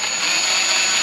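A power drill boring a small 1/8-inch pilot hole while a CTS-V conversion kit is fitted to a Cadillac CTS Sport, a brief, loud, steady high whine close by.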